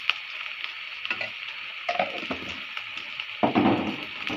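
Pangas fish frying in a pan with ginger garlic paste and spices gives a steady close sizzle, broken by louder bursts of stirring and scraping, with no talk.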